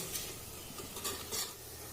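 Turmeric and spices being roasted in a pan for kadhi, a steady low sizzle with faint stirring scrapes throughout, close and fairly quiet.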